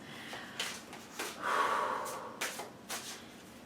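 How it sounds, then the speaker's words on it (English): A slow, audible breath drawn in and let out during a calm, guided relaxation moment, with soft sniffs and exhales around it, close and quiet with no talking. "Take a few deep breaths."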